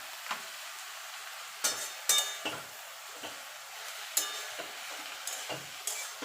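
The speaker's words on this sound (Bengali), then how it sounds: "শাকটাকে আমি ভাজা ভাজা করে নেব" Water spinach frying in a pan: soft sizzling and stirring with occasional scrapes and light clinks of a utensil, quiet and close, no voices.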